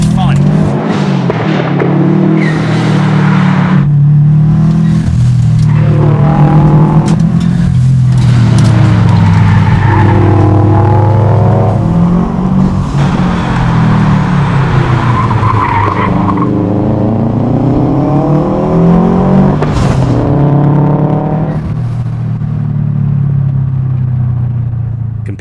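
A modded Subaru WRX with audio and performance upgrades accelerates hard, its loud engine rising and falling through the gears with rumbling exhaust and repeated pitch sweeps, close and continuous throughout.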